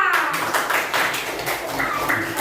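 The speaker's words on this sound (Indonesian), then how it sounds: "Beri tepuk tangan untuk kelompok Papua." A classroom group claps together in a dense, continuous round of applause, moderately loud and close, with a faint voice mixed in.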